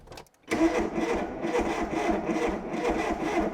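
An old barn-find fast Ford engine turns over on the starter after a brief pause, then catches and runs roughly with a short rise in revs, loud and close, the churning crank continuing to the end with no one talking.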